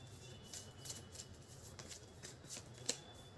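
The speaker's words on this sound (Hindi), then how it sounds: "मैं एक और कार्ड वापस शफल करके लेना चाहूँगी" Tarot cards being shuffled by hand in a quiet room, giving soft, repeated papery riffling bursts at a close distance, with one slightly sharper snap near the end and no talking.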